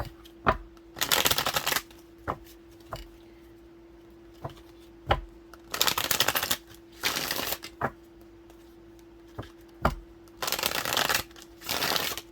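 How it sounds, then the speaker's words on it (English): A Dream Keeper's Tarot deck by Liz Houston being shuffled, with several bursts of riffling cards separated by sharp taps and quiet pauses, close and fairly loud, with a faint steady hum underneath and no talking. "This is the Dream Keeper's Tarot by Liz Houston."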